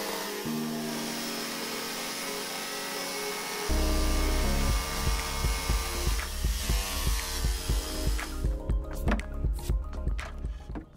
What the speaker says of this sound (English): I used my jigsaw to cut it